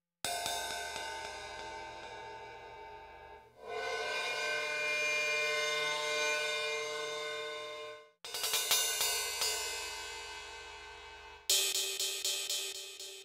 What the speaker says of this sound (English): cymbal effects, and they sound like this.